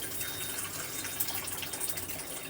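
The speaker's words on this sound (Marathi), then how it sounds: "आपण आता टाकतोय एक वाटी पाणी आणि याला छान असं मिक्स करून घ्यायचं आहे" A bowl of water poured into a pan for rabri falooda, a steady close splashing and trickling pour lasting a couple of seconds, with no voices.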